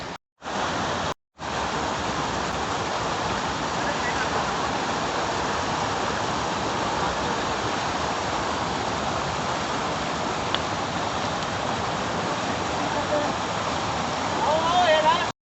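Pindar river rushing on a glacier trek, a steady broadband roar of flowing water filling the whole clip, close and loud, broken only by two brief dropouts near the start.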